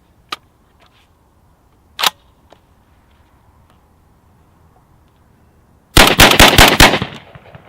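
A KRX Tactical 12-gauge magazine-fed shotgun loaded with 7.5 birdshot fires a rapid string of about six loud blasts outdoors, following a couple of isolated sharp clicks and knocks in near silence.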